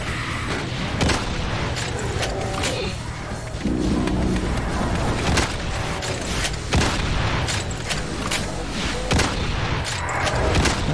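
Weapon fire from the plasma gun in the video game Doom, dense crackling blasts and booms repeating over a steady roaring game soundscape.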